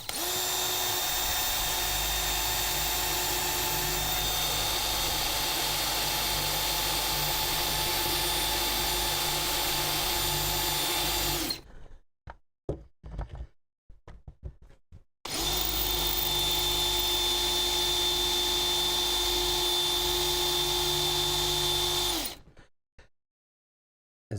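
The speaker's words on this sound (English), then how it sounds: "I think I'm just going to drill some holes and widen those out until we can get that piece out" A power drill bores holes in car sheet metal on a Chevrolet Impala, two long steady whining runs of about ten seconds each, separated by a pause with faint clicks and handling noises.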